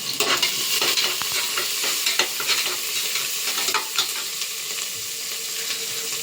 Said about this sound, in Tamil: கொஞ்சம் கருவேப்பிலை, போட்டு நல்லா கலரணும்.